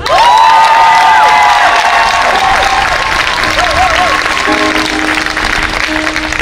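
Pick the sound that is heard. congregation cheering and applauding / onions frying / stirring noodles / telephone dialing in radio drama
congregation cheering and applauding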